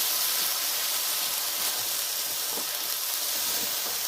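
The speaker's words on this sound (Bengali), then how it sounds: "বেটে রাখা যে কাঁচা লঙ্কা শুকনো লঙ্কাটা বাটা ছিল সেটাই আমি তেলের মধ্যে দিয়ে দিলাম" Ground green and dried chili paste fries in hot oil, producing an even, close-up hiss that holds steady throughout with no talking.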